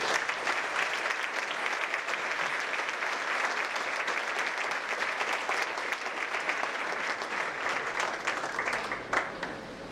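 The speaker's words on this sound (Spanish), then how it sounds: "denme un aplauso a Dios por eso" A church congregation applauds steadily and loudly for the full stretch, a dense, even wash of clapping from many hands with no pause.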